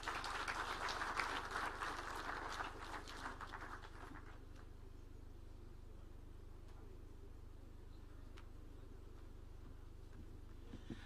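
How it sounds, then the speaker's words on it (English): Applause from a crowd at an official evening event with taarab music, fairly loud clapping for the first few seconds that fades into a low hum and background noise. "Another round of applause for CS."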